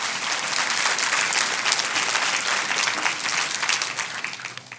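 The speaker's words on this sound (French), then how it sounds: "Oui, on peut applaudir le Seigneur." A church congregation applauds during a French sermon, a loud, thick roar of many hands clapping in a large room, holding steady for several seconds before easing off slightly at the end.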